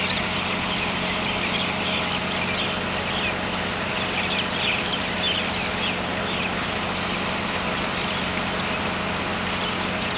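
Birds calling in Afghanistan, a dense, steady mix of fowl-like clucks and chirps set against constant low background noise, with no clear voices.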